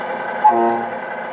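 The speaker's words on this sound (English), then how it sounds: "This is for your air horn." Truck air horn giving one short, loud, close blast with a steady tonal chord, briefly held and then fading.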